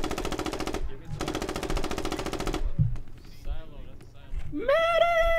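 Rapid automatic gunfire in the military shooter Squad, two sustained bursts of close shots, then scattered shots with a voice speaking over them and a rising mechanical whine at the end.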